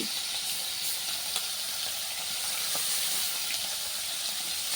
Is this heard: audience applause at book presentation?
no